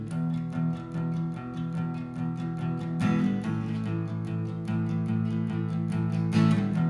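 A guitar strums chords in a steady four-beat rhythm, with sharp strum attacks cutting through ringing sustained notes, close by with no voices.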